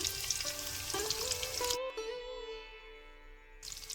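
Onion, garlic and green chilli sizzling in hot mustard oil in a wok, a steady loud frying hiss with a brief quieter gap midway before the crackle returns.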